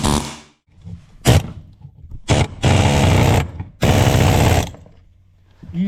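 A pneumatic air chisel lifts sound deadening inside a Vauxhall Cavalier, firing in several short bursts and two longer rattling runs, loud and close, with pauses between.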